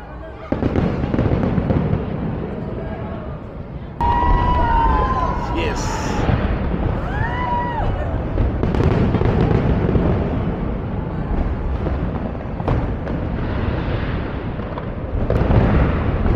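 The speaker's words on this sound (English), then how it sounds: "Can hear the fireworks going off behind me." New Year's Eve fireworks in Sydney bang and crackle continuously in the distance, with whistling rockets rising and a crowd's voices chattering throughout.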